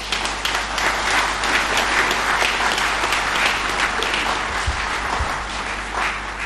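A large audience at an official address applauds steadily, dense continuous clapping filling the space without pause from start to finish.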